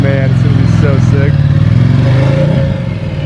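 The V-twin engine of a Lamborghini edition Ducati Diavel 1260 motorcycle idles loudly up close, with a steady rumbling throb throughout and voices speaking over it.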